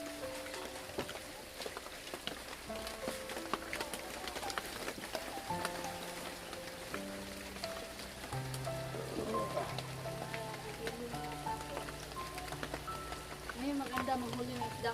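Rain patters steadily on surfaces outdoors, a constant hiss of drops beneath background music and occasional voices.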